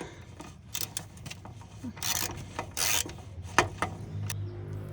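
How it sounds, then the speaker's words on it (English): Ratcheting wrench on a long extension working loose an exhaust bolt on a 1960 Cadillac hearse engine, heard as scattered clicks, scrapes and a few sharp broadband bursts over a low shop hum, fairly close. "So we're just going to undo this one real quick. I've got a super long extension on our wrench here"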